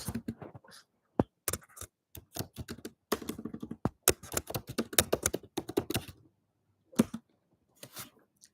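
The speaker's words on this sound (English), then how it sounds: "I'm typing it for all you folks." Fingers type on a computer keyboard nearby in quick, irregular bursts of sharp clicking keystrokes, broken by short pauses and a few isolated taps near the end.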